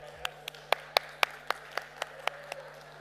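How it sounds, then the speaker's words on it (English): Sparse, steady clapping follows a talk at an award pitch event: about ten distinct, evenly spaced claps, fairly quiet, with a low electrical hum underneath. "I think this deserves another applause"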